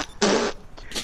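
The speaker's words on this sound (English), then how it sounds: "did you fart in your mic?" A fart blown into a gaming microphone while playing a GTA V game: one loud, close, buzzy blast lasting about a third of a second, then a softer trailing puff.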